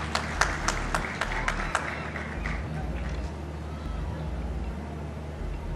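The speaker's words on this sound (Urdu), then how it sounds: "ہاں تالی بجا کے دکھاؤ" Audience applause at a ceremony in Lahore, a burst of clapping that starts loud and near then fades into a steady low hum of room noise.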